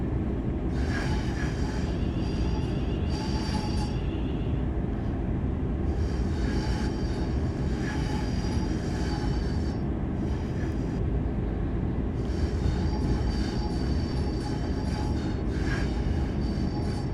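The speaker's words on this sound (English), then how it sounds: "listen to that flange squeal" Class 350 electric multiple unit in the Train Sim World 6 game, wheel flanges squealing in repeated high-pitched bursts over a steady loud rumble of rolling stock, continuing throughout with no talk.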